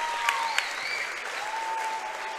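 A home crowd in a high school gym applauds three seniors on senior night at a basketball game, steady clapping with a couple of sharper claps and a sneaker squeak or whistle-like tone under it.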